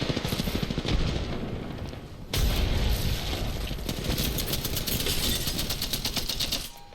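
Heavy sustained gunfire during an Apex Legends fight: rapid automatic bursts rattling close and loud, a short dip, then another long barrage with booming low impacts, continuing nearly to the end.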